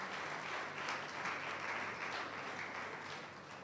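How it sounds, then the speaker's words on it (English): A church congregation claps their hands during a Sunday morning service, a continuous, moderately distant crowd applause that holds steady before tapering slightly at the end. "Clap your 2 hands for Jesus."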